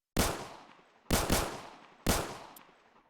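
Grenadier Guardsmen fire rifles at target practice, with three loud, sharp shots spaced about a second apart, each ringing out and fading in a long echoing tail.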